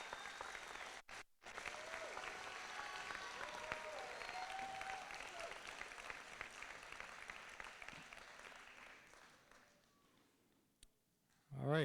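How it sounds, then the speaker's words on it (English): Audience applause at a high school graduation ceremony honoring a graduate, a steady dense wash of clapping that holds for about ten seconds before fading and tapering off near the end. "So let's give him a round of applause"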